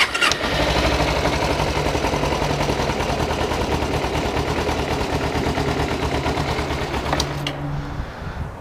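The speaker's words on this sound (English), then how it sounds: "So now we're gonna start the bike." A 2011 Kawasaki Ninja 250 motorcycle starts after a jump-start and settles into a steady, loud, close running rumble for several seconds before cutting off at the end.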